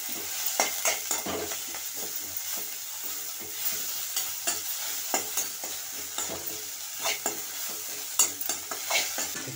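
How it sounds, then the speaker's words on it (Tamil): Thoodhuvalai and other herb leaves sautéing in oil for a five-herb rasam, with a steady sizzle broken by repeated scraping stir strokes, close and moderately loud, no voices. "எண்ணெய் கம்மியாக இருந்துச்சுன்னா கொஞ்சம் எண்ணெய் ஊற்றி வணக்கிக்குங்க"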